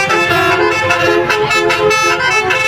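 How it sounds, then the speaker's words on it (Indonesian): A vehicle horn, such as a bus or truck horn, plays the melodic telolet tune in loud, continuous musical tooting with repeated rhythmic pulses, close and prominent throughout. "video klakson tolelot"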